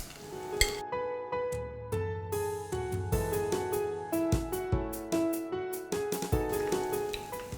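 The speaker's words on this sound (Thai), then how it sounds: "เดี๋ยวเราจะไปทอดตัวใบโหระพากันค่ะ" Basil leaves frying in hot oil after chicken fish-cake frying, with loud rhythmic metal clinks of a utensil stirring against the pan over a crackling sizzle, close and busy.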